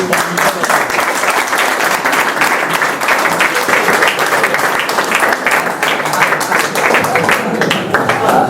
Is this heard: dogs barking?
no